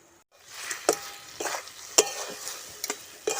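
Chili paneer in a pan is stirred lightly, with sharp spoon clacks and scrapes every second or so over a soft sizzle, close up and without voices.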